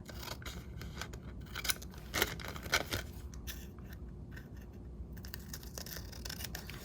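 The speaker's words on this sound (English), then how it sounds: "I'm gonna cut the edges off." A small fabric or paper sack trimmed around its edges with scissors for a hybrid traveler's notebook craft project, several short close snips with a sharper pair of cuts in the middle, over a steady room hiss.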